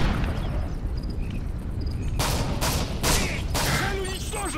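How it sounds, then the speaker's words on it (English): A flashbang grenade detonates in the online multiplayer shooter Call of Duty: Modern Warfare 3, giving a loud burst followed by a string of sharp gunfire-like bangs over steady game background noise, with a voice shouting. "Flashbang idiot!"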